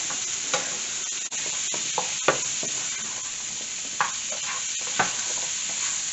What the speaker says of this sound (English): once this is all coated and it's cooked for a little bit